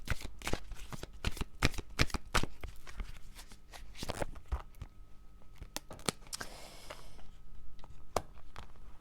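Tarot cards are shuffled by hand in a quick, uneven run of crisp riffling snaps and slides, close and fairly quiet, with no talking.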